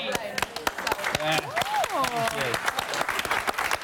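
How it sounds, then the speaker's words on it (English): A studio audience at a live broadcast event cheers and claps loudly and continuously, with people talking over the crowd noise. "What was that big cheer for when Matt said that?"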